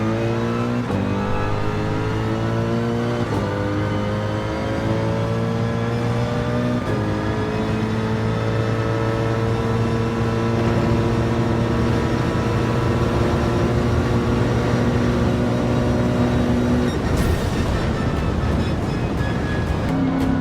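Racing video game engine drone on the final lap, a steady loud harmonic whine holding pitch with gradual shifts, chasing a rival in the slipstream, continuous throughout with a brief change near the end.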